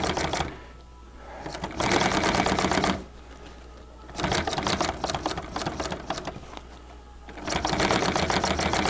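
A sewing machine runs in three bursts of rapid, steady stitching, separated by short pauses, as it sews a fake stitch line through acrylic fabric for bonding. The machine is close and loud, with no talking.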